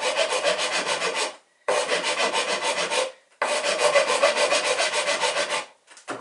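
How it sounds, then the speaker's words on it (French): Hand file rasping wooden frames of a small toy Barfleur boat hull, in three long steady runs of rhythmic back-and-forth strokes separated by short pauses, close and fairly loud, with no talk. "à l'aide d'une lime, on va donner la forme des termes"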